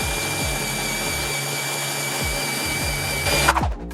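Electric screwdriver fitted with a crown bit drilling through a plate, a loud, steady motor whine with the bit grinding into the material, briefly surging in pitch and rattling near the end before winding down.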